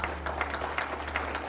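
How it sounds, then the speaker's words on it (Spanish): A church congregation applauds after a Spanish-language sermon on a mother's legacy of faith, a steady wash of clapping at moderate level with a low hum underneath, sustained for the whole moment. "Denle un aplauso al Señor."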